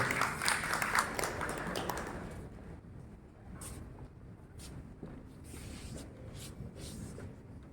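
Audience applause at a Halal Bihalal gathering and seminar in Bandung, a dense burst of clapping loudest at first, then thinning into scattered claps and room noise.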